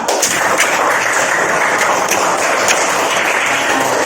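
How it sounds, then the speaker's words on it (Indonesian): Dense, steady clapping from a crowd fills the whole stretch, a continuous crackle of many hands with a few sharper individual claps standing out. "tepuk tangan buat semuanya."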